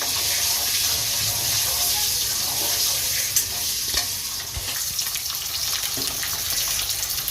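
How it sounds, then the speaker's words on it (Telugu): Eggs frying in a pan for a drumstick masala, a steady close sizzle with occasional stirring scrapes and faint water sounds running throughout without talk. "గుడ్లు చూడండి ఫ్రెండ్స్, ఫ్రై అవుతున్నాయి"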